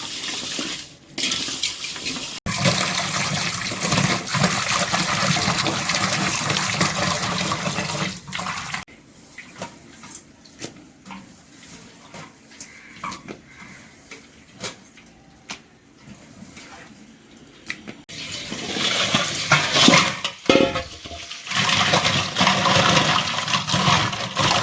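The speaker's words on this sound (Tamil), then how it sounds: "இந்த உப்பை போட்டு இறாவை நல்லா வாஷ் பண்ணால் இந்த அதில் இருக்கிற அழுக்கு எல்லாம் வந்துடும்" Prawns being washed with salt in water for prawn thokku, with splashing, sloshing water and clattering of a vessel, loud at first, then quieter rubbing and handling, then louder splashing again, with no speech.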